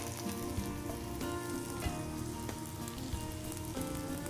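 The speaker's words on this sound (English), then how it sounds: "here we go, right into the fryer" Apple wontons deep-fry in hot oil with a steady, crackling sizzle that runs without a break. Small pops scatter through it, and the sound is quiet and even, with no talking.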